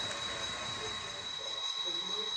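Santa Fe local freight train, the Brazos Valley Turn (train number 17) on the Brazos Valley Subdivision, giving a steady rolling rumble with faint wheel squeal and a constant high whine, under a voice talking.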